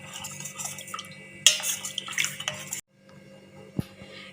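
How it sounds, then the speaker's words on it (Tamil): A spoon clinks and scrapes against a glass vessel while rose milk is stirred to dissolve sugar, close and irregular taps and swishes, then a brief pause and a single sharp clink. "இப்போ நம்ம சர்க்கரை கரையிற வரைக்கும் நல்லா கலந்து விட்டுக்கலாம்."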